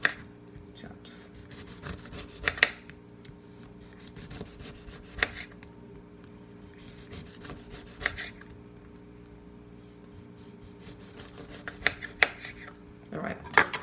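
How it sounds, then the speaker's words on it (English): Knife chopping a lemon into slices on a cutting board, a handful of sharp, separate knocks spaced several seconds apart over a low steady background hum, fairly close. "So I'm going to chop this lemon."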